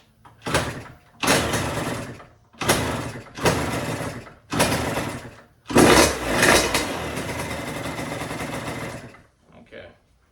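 A Yamaha YZ85 dirt bike engine being revived, with several short bursts of revving that start and die, then a longer run before cutting out, loud and close.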